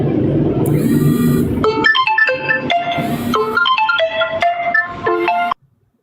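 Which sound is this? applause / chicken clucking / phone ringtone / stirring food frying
phone ringtone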